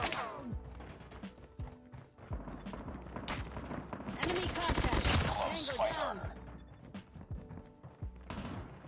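Hip-fire gunshots from Call of Duty Mobile, a QXR weapon event, crackle in rapid bursts at close range, peaking in a dense volley midway with game sound effects around them.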